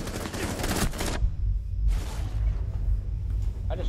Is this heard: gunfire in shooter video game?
yes